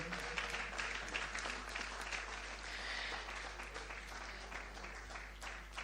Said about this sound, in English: A round of applause, keep it going, keep it going, keep it going.